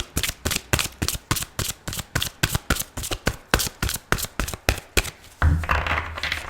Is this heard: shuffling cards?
yes